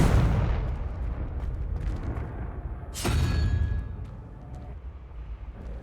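A Confringo fire spell bursts in Hogwarts Legacy, a loud booming blast after a sustained roar, followed by a fading rumble with brief crackles.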